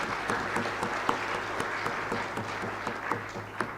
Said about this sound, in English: Let's just clap for them for bringing us together.